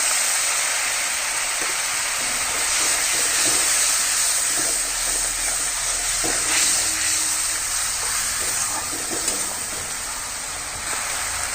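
Ground spices, coriander and turmeric, sizzling in a pan after a splash of water goes in for a Bengali baan fish curry, a loud, steady, hissing steam that holds evenly throughout with faint stirring.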